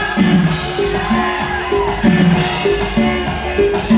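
A crowd shouting and whooping in rhythmic bursts at a village festival for San Mateo in Michoacán, loud and close, with music-like tones underneath.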